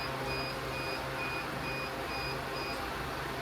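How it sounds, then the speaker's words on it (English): A Rite Farm Pro-528 cabinet incubator for emu eggs beeping with its door open, a faint, evenly repeating alert tone pulsing about twice a second over a steady fan hum. "it's beeping at me because it doesn't like that"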